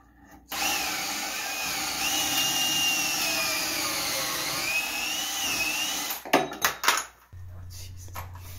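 A power drill bores into maple plywood in one sustained whining run of roughly six seconds, its pitch sagging and recovering under load, then stops, followed by a few clattering knocks and a low hum.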